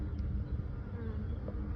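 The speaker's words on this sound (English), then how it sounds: "You can see all the bees there." Honey bees buzzing at an open beehive during an inspection after a super was added, a dense, continuous close-up drone of many bees.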